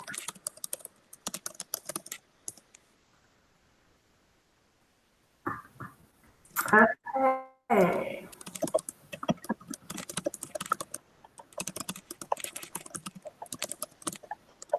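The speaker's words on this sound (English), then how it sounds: "If someone is typing," Someone types on a computer keyboard during a video call, a quick run of clicky keystrokes that stops, then returns after a short burst of noise and a spoken word, continuing steadily to the end.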